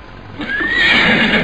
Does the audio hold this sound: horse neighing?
yes